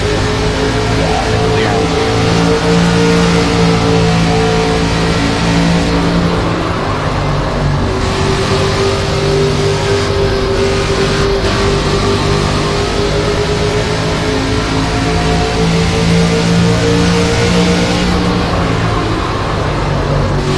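Race car engine held at full throttle in the video game NASCAR 25, a loud, continuous drone with shifting pitch under steady talk.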